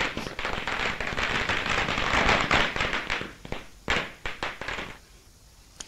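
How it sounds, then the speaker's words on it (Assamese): Jubilant party supporters set off firecrackers outdoors after a candidate announcement, a dense run of crackling bursts giving way to scattered loud pops and bangs. "তেওঁলোকে আনন্দ উল্লাস কৰিছে, তেওঁলোকে স্ফূৰ্তি কৰিছে, ফটকা ফুটাইছে।"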